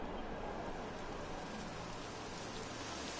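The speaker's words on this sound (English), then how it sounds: "It would have to go and start raining, wouldn't it?" Steady rain falls in Dragon Quest XI, a dense, even hiss of drops on surfaces that holds at a constant moderate level with no talking.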